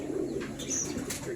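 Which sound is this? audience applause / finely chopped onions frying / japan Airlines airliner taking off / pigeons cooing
pigeons cooing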